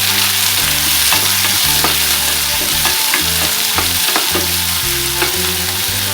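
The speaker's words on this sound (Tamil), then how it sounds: "வெங்காயம் பொடியா நறுக்கி வச்சிருக்க வெங்காயத்தை போட்டுக்கோங்க" Chopped onions frying in a pan for a spinach gravy, a steady close sizzle with stirring clatter throughout and rhythmic low thumps beneath.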